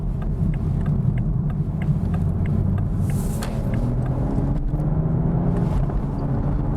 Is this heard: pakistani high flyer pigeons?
no